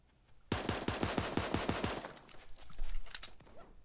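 Rapid automatic gunfire in the Super Animal Royale video game, a burst of about a dozen evenly spaced sharp shots, followed by quieter scattered shots and game noise.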